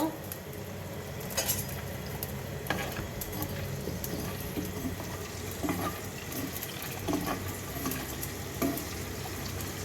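Eggs fry in a pan with a continuous close hiss and sizzle, broken by occasional utensil scrapes and clinks from stirring.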